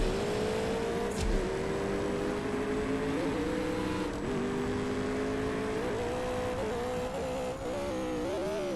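A McLaren's engine in the CSR2 drag racing game drones steadily at a high, even pitch, rising slightly with revs and briefly dipping between gears, loud and close throughout with no voices.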